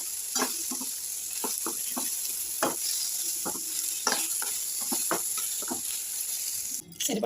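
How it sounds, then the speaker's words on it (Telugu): Sesame seeds sizzle in hot oil in a pan for a urad dal and sesame chutney, a constant frying hiss broken by scattered stirring scrapes and small pops. "కొంచెం వేగాక నువ్వులు యాడ్ చేసేసుకోండి"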